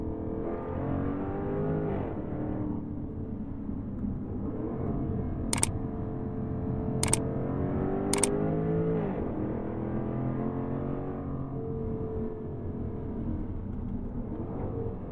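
A Jaguar F-Type P450 with a V8 engine holds a steady, throaty drone that rises and falls in pitch as it revs, heard up close and alone, with a few sharp clicks partway through.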